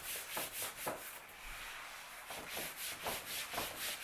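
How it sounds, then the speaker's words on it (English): Chalk math working is rubbed off a board with an eraser in quick back-and-forth strokes, a rhythmic scrubbing rasp that comes in bursts, close and fairly quiet with no talking. "I'm going to rub it out"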